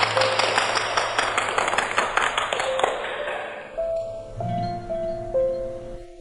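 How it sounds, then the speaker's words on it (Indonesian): A room full of hotel staff claps in steady, dense applause welcoming a newly appointed lobby manager, close and lively for about four seconds before it fades out under swelling music tones. "Semuanya tepuk tangan dan sambut."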